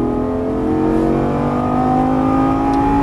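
Lamborghini engine at full throttle on a track, a loud, steady, close roar with rising harmonic pitch as it accelerates hard, continuous for the whole stretch with no talk.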